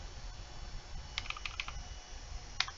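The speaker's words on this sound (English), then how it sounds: "then I hear the keyboard going" A computer keyboard being typed on, heard as two short bursts of rapid, crisp key clicks separated by a pause, over a low steady background hum with no talking.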